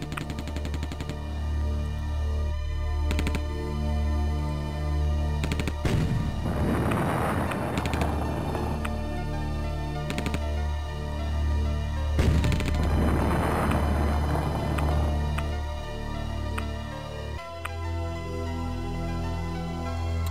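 Repeated bursts of gunfire from the video game Counter Action (German campaign) cut down advancing infantry, with two louder rumbling volleys standing out over a steady background of game noise.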